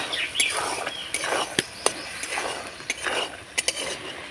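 Vegetarian ghugni being stir-fried with spices in a pan, with irregular scraping and sharp metallic clicks of a spoon against the pan over a soft background sizzle.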